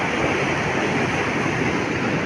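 Sea waves roll continuously onto a Malaysian beach during rainy, cloudy weather, forming a steady, loud wash of broadband surf noise with wind, no distinct breaks and no voices.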